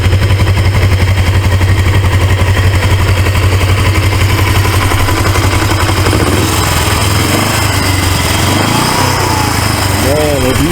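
An automatic 1980s Suzuki GS 450A motorcycle engine runs loud and close with a steady, rapid mechanical rattle. The pitch shifts slightly toward the end as it keeps chattering in drive gear.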